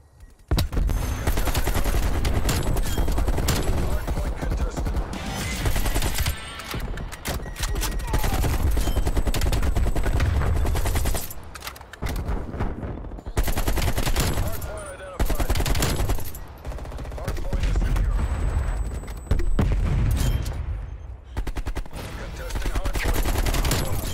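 AK47 assault rifle fire in Call of Duty: Cold War on the Nuketown map comes as repeated loud automatic bursts with brief gaps between them, and a voice talks at times under the gunfire.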